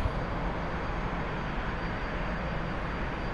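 A T-45 jet trainer lifting off in a flight simulator game, a steady loud roar of engine noise holding evenly with no talk.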